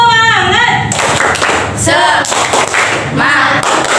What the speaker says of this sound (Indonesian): Jadi semuanya yuk kita tepuk semangat dulu biar tambah semangat.